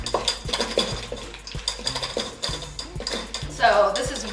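A utensil stirs and scrapes through a salad of nuts, raisins, celery and onion dressed with sesame oil and sweetener, giving close, rhythmic clinks and knocks against the bowl, with a voice briefly at the end.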